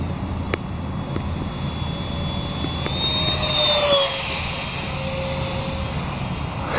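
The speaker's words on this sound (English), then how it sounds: "Gonna do a flyby right here." A radio-controlled EDF jet, a Falcon model with thrust vectoring, whines past overhead in a flyby, its steady ducted-fan tone rising and sliding in pitch as it swells louder near the middle and then recedes, with no voices present.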